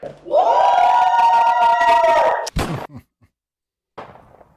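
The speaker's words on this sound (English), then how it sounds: "So let's hear some cheer." Studio audience members on a balloon-popping dating show cheer for the first guest with a loud, sustained unison shout lasting about two seconds, cut off by a sharp thud, then brief silence and a faint voice.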